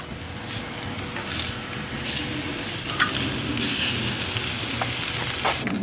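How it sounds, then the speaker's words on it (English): Filet mignon steaks sear over high heat on a Big Green Egg grill, a loud, constant crackling sizzle with occasional sharper pops. "So we're on that last minute of that high heat sear."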